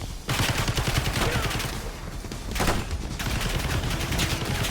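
Dense sustained automatic gunfire from the Call of Duty Black Ops 6 video game, loud and continuous bursts of rapid shots with a brief pause before the volley resumes, no talk over it.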